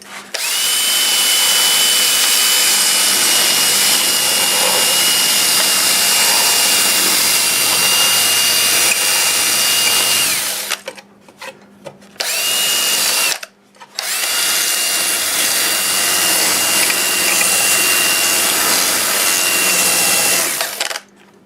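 Lathe spinning a mesquite wood turning while 120 grit Sandiflex sanding abrasive works it, a loud continuous whining drone with two short breaks midway.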